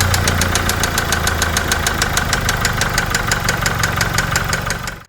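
A defective engine in a Land Rover Discovery 5 with about 60,000 km on it knocks at idle, a fast, even metallic ticking riding over a deep, loud, continuous engine drone.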